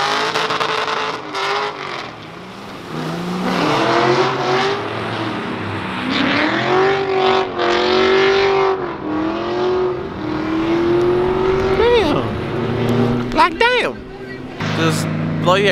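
A rear-wheel-drive converted Subaru drifts, its engine revving hard in rising and falling surges with brief lifts between pulls, loud and close, with voices talking over it.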